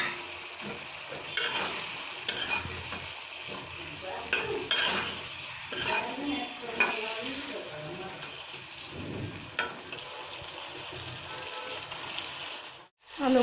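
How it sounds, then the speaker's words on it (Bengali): Fried potatoes tossed into a spiced masala in a pan, with steady scraping and stirring, a soft sizzle, and occasional clinks of a spoon against the pan throughout, close and continuous. "এবার আমি ভেজে রাখা আলুগুলো দিয়ে দিচ্ছি"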